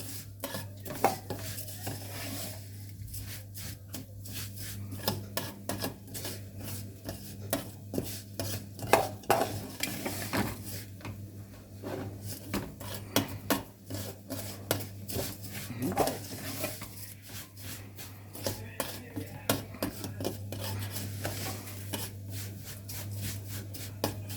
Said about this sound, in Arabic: لازم تفضلي تقلبي فيها كده اهو عشان ما يبقاش لون ولون